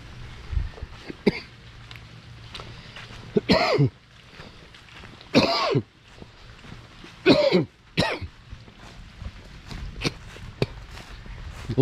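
A person coughs and clears their throat in a rural farm setting after rain; several sharp, close coughing bursts come in irregular groups, with quieter rustling and faint footsteps in between.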